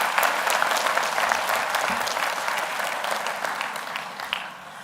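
A graduation audience at a university ceremony bursts into sustained, loud applause for the graduating class, a dense crowd of clapping hands that holds steady and slowly eases off.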